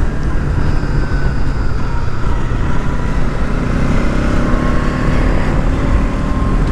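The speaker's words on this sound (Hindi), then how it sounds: "फिफ्थ गियर में चला रहा हूँ यार" A 2024 Bajaj Pulsar NS 200 motorcycle riding steadily in fifth gear gives a constant engine drone mixed with heavy wind rush, loud and continuous throughout.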